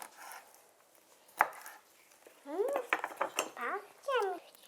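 Knife slicing matjes-style herring fillets into centimetre-wide strips on a board for a layered Christmas herring dish; a single sharp knock, then quieter scattered cuts mixed with squeaky, chirping tones.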